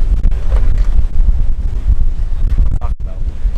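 Strong wind buffets the microphone on an open golf course in Los Angeles on a cold day, a loud constant low rumble filling the whole clip.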